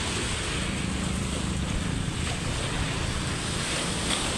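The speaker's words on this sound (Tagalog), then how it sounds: "Natakot ako pag humampas yung alon." Rough sea waves crash and churn near a bus terminal in Bislig at high tide, a steady, heavy surf roar mixed with gusting wind buffeting the microphone.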